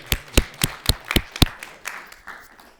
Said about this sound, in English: big nice round of applause